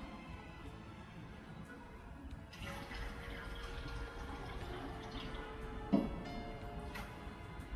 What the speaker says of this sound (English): let's see what happens if we add more water from the alkapod